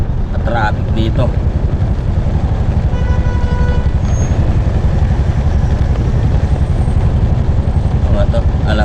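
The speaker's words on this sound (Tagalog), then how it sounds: "Traffic dito." Street traffic in heavy rain, with motorcycles and cars, gives a loud, steady rumble of engines close by under a constant wash of rain, with a few faint horn-like tones.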